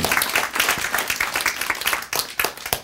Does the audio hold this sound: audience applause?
yes